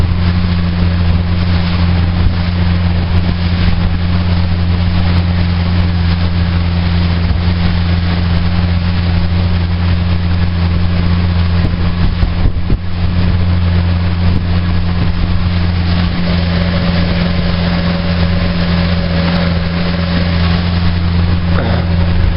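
Motorboat cruising along the Italian coast, its engine a steady loud drone with constant wind rush over the hull, continuous and close for the whole stretch.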